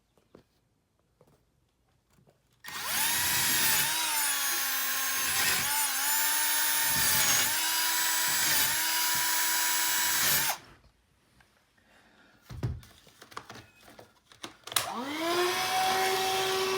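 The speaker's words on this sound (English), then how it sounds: "take a little bit bigger drill bit, focus, a bigger one, to just go down 1/4 inch" Power drill boring a hole into a floor to seat a bike chain floor anchor, a loud whine held for about eight seconds with repeated dips in speed, then rattling handling noises and a short second spin-up.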